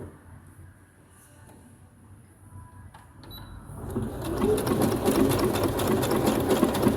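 A Brother CS6000XL sewing machine stitches a straight seam, starting after a quiet moment and building into a steady rapid needle chatter, close and continuous.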